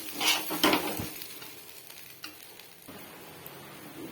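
Gobindobhog rice with ginger paste frying in a pan for fried rice, a low sizzle with a few sharp stirring scrapes near the start, then a quieter steady hiss.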